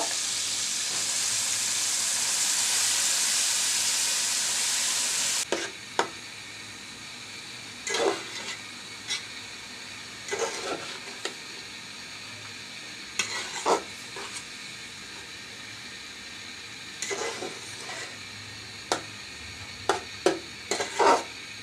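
Red amaranth greens stir-fried with prawns in a hot pan, starting with a loud steady sizzle for several seconds, then quieter frying broken by repeated scraping stir strokes at irregular intervals.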